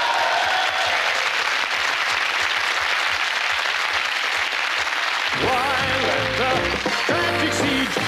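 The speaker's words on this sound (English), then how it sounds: "I truly believe I can force a round of applause out of the mindless sheep in the studio audience here tonight" A studio audience applauds loudly and steadily for several seconds, then music comes in over the clapping.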